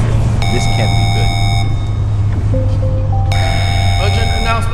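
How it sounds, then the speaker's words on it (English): A facility power-loss alarm sounds as a series of steady electronic beeping tones, repeating in long bursts over a loud, constant low hum. "Okay, the alarm has been triggered."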